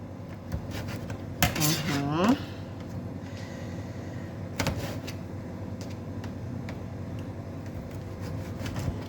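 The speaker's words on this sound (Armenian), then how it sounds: "բայց ուզում եմ, որ սա էլ կտրատեմ գաթակտրիչով" A metal gata cutter slices through Armenian gata pastry in a home kitchen, making a few sharp clinks and scrapes against a tray over a steady background hum, with a brief squeaky whistle-like sound early on.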